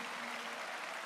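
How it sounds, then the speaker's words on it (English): Church congregation clapping during a Sunday service, a brief, fairly faint burst of steady applause. "You are clapping for Jesus."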